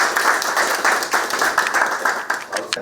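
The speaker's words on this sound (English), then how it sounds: "I think we give our clap" An audience claps at a Kenyan Attorney General's swearing-in event, loud, dense applause with scattered sharp individual claps that continues steadily throughout.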